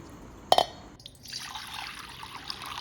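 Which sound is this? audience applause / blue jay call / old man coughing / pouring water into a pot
pouring water into a pot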